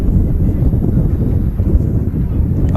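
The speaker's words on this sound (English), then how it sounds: "That wind is definitely picking up." Strong wind buffets the microphone at Manchester Airport, a loud continuous low roar with gusty fluctuations and no clear voices.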